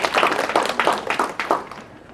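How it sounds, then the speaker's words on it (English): An audience at a talk by an IOM Kenya officer claps together in several short, fairly even bursts, then fades out after about two seconds. "And maybe we should clap for ourselves."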